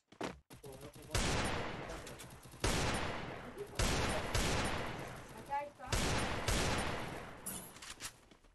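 Gunfire rings out in a 4x4 shooter video game, loud bursts of rapid shots arriving in several clusters with sharp onsets and trailing echoes, separated by brief pauses.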